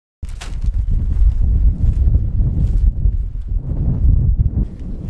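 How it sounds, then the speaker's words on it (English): Strong gusty wind buffets the microphone in Joshua Tree National Park ahead of a rainstorm, a continuous loud low roar with rustling that swells and dips for several seconds, with no one speaking. "It's so windy."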